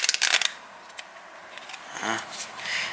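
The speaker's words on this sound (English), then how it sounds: "just shuffle it a few times" A quick riffling flutter of playing cards being shuffled up close, a crisp burst at the start followed by softer handling rustles.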